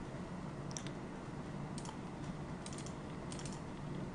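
Keys tapped on a computer keyboard while entering file names, short bursts of soft clicks scattered over a steady low room hum, close and fairly quiet.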